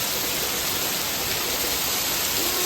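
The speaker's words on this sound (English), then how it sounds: "It's absolutely pouring down." Heavy tropical storm rain pours down in Florida in a dense, steady roar, loud and close, with no break throughout.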